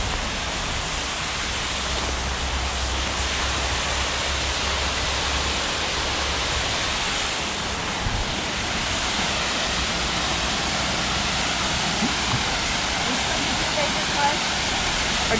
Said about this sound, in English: Do you know which waterfall this is?